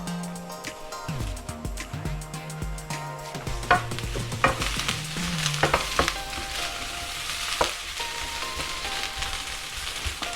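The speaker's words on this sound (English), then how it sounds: "when you are stir frying" Food sizzling and crackling in a hot pan while being stir fried, with scraping and clattering of utensils, fairly close, no talking.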